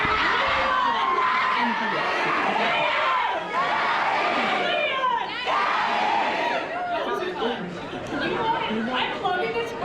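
A convention crowd at a Resident Evil Requiem actors' panel cheers and shouts continuously, a dense roar of many excited voices with overlapping calls, loud and close throughout.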